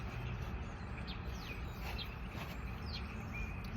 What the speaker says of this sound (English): I'm focusing on the sound of the birds too.